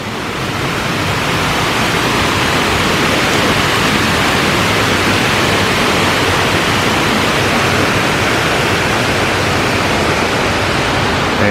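Water in San Antonio's stepped water gardens pours and rushes in a dense, steady wash, loud and close, continuous without pause and with no voices.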